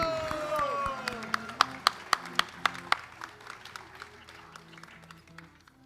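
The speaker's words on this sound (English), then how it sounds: "Big round of applause, please." Wedding guests clap for the groom. A burst of applause opens, then a run of loud, sharp single claps falls into an even rhythm and gradually fades, over a background of crowd murmur and voices.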